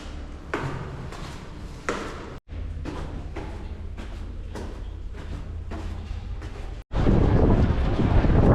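Wind rumbles across the microphone in bursts broken by short clicks, ending in a louder, rougher gust of wind noise, outdoors in Warsaw, Poland.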